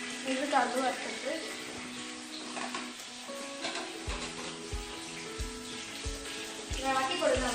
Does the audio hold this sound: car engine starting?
no